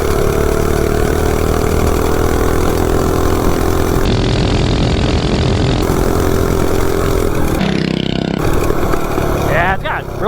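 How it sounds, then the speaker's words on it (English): A mini bike engine runs steadily and loudly up close throughout, a continuous buzzing drone with a slight change in pitch near the end. "this bike runs great"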